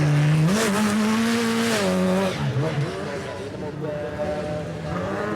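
A high-revving rallycross supercar engine drones and climbs in pitch, shifting through gears as the car passes on a snow and ice track, with commentary voices faintly underneath.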